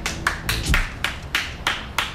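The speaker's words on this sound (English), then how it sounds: "clap for yourselves" Several sharp claps ring out close by in a quick, uneven rhythm, with no talking over them.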